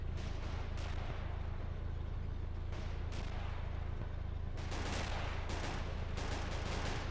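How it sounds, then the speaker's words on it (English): Hummel artillery shells crash down during a World War battle game on the Tannenberg line, with repeated loud booming blasts and crackling gunfire over a constant low engine drone. "we can see the shells landing from the Hummel, just flying past the camera."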